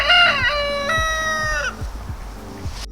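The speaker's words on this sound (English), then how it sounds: "Mr. Rooster, be quiet, please." A farm rooster crows loudly and close by, one long rising-and-falling call lasting well over a second, followed by softer clucking from nearby fowl.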